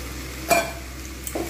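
Taro stolons tipped into a hot pan with prawns, a short sizzling burst followed by quieter stirring and a faint second scrape, close and alone.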